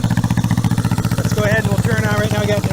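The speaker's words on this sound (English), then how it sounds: "See how those shorty mufflers, they give it a nice mean sound." A 1975 Honda CB360 motorcycle fitted with short shorty mufflers idles close by with a steady, throbbing low engine pulse, and a voice talks over it.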